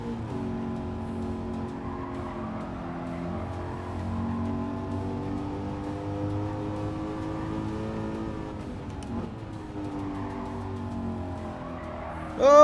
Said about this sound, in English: Sadly, this car sounds more like a Mustang than Race Room.